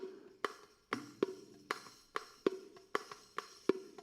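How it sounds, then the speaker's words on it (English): A riqq plays a rolling malfouf rhythm: deep frame-drum strokes alternating with sharp jingling slaps, evenly paced and close, with no talking. "If I'm to play it on the riqq, it would sound like this."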